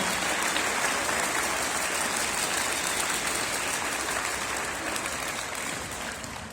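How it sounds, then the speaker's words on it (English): A crowd applauds at a Ponoka Broncs senior night, dense continuous clapping that holds steady and slowly tapers off toward the end. "if we could give all of them a round of applause at this point"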